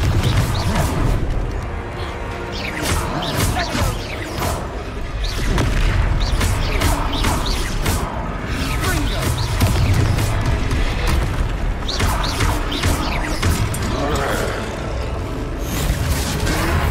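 Confringo, an explosive spell in Hogwarts Legacy, fires in a loud, dense barrage of booming blasts and crashing impacts during a troll battle, continuing without a break for many seconds, with only faint voices in the mix.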